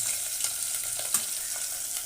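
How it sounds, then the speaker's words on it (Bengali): Eggplant frying in a pan of hot oil gives a steady, close sizzle and crackle with a small pop midway, with no talking. "বেগুনটা প্রায় ভাজা হয়ে গেছে, বেগুনটা একটু ভালো করে ভেজে নিয়ে তুলে নেবো।"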